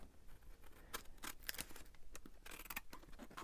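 Scissors snip through a large junk mail envelope with a big plastic window, giving a close run of sharp, irregular cuts and paper rustles over a soft background hiss.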